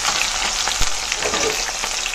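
Onion frying in hot mustard oil in a wok along with cumin, bay leaves and chillies for duck khichuri; a loud, steady sizzle with occasional stirring, and no voices.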